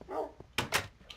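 A Minecraft dog, a tamed wolf in the video game, gives a couple of quick, close yipping barks, with a brief whimper before them.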